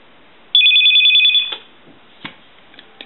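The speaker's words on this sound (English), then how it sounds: "I'm going to go one more time on the ring" A Radio Shack Continental 43-330 telephone bell rings in one sustained, loud electromechanical trill lasting about a second, then cuts off, leaving faint clicks and handling knocks.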